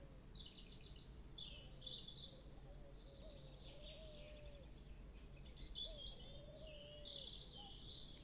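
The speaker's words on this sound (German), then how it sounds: "Und ist noch eine Taube, mit der können wir nichts machen." A pigeon in the video game Portal of Evil: Stolen Runes coos softly in short, repeated phrases over a faint ambient background, with light chirping higher up.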